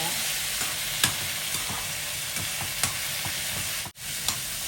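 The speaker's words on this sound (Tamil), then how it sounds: "தக்காளி நல்லா வதங்கட்டும்." Tomatoes and onions sautéing in a pan, a dense, even sizzle with soft scrapes and taps of stirring every second or so, close and steady, with one brief dropout near the end.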